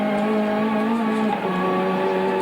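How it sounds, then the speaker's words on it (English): A turbocharged race car from the 1992 Bathurst 1000 accelerates with heavy wheel spin. The engine drone is loud and continuous, with its pitch sliding partway through as the boost and revs shift. "Just listen to the wheels buzzing. You hear that turbo come on like a bomb. Heaps of wheel spin."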